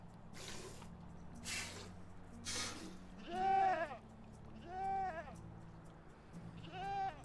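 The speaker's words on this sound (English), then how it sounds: "we're trying to milk the goat." A goat in the Medieval Dynasty video game bleats three times while being milked, each wavering bleat close and fairly loud, with soft squishing and bucket sounds in between.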